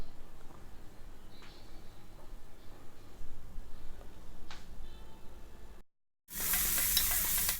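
A quarter kilo of thinly sliced shallots frying in oil for a Chettinad chicken roast, with a low steady sizzle and occasional stirring clicks, then a brief gap before a much louder, hissing burst of frying.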